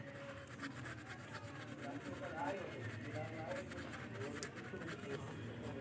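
Sandpaper rubbed by hand over the metal shuttle of a Pico sewing machine, a steady close scraping rasp that continues throughout with faint background noise.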